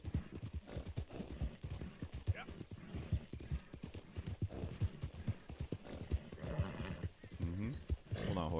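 Horse hooves clip-clop steadily on the ground in the video game Red Dead Redemption 2, with occasional whinnies and a person talking over the rhythmic footfalls.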